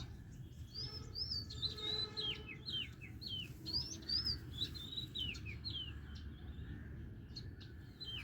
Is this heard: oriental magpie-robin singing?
yes